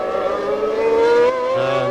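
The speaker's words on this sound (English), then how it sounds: "car sounding a bit rough" A Formula 1 car engine running rough whines at high pitch at the 1991 Brazilian Grand Prix, rising slightly as it passes, its tone uneven and strained.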